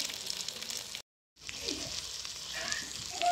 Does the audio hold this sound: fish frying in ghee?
yes